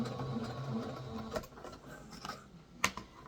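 A sewing machine runs a straight stitch across fabric, a soft, steady, fast mechanical whir with faint ticking and a couple of sharper clicks, close and quiet, with no voices.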